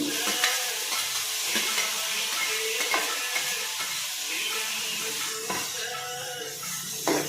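Tomatoes sauté in a hot pan while being stirred, a continuous dense sizzle with periodic scraping strokes of the spoon against the pan, close and steady throughout, with no one speaking.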